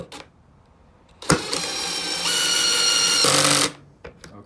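A 12V cordless screwdriver on its second setting drives a fresh fastener into wood, giving a loud, steady motor whine of about two seconds that rises slightly in pitch before cutting off, with faint handling noise around it.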